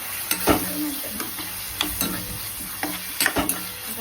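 Chopped tomato and red chili powder frying in hot oil for dhaba-style palak bhaji, a steady close sizzle broken by repeated stirring scrapes and clinks, with no voices.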